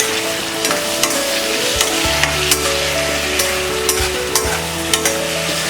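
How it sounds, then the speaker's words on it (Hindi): Tomatoes are mixed into biryani masala frying in a pan, producing a loud continuous sizzle with regular scraping and stirring strokes and a low steady hum underneath. "ये टमाटर, मिक्स कर देते हैं।"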